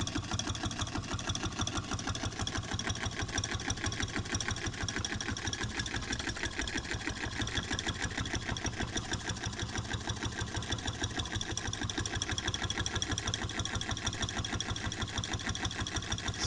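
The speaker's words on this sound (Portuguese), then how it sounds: "Então tá aí nosso motor funcionando perfeitamente." A homemade Stirling engine built from a small can runs steadily, giving a fast, even mechanical ticking and clatter that keeps a constant rhythm for the whole stretch, close and moderately quiet.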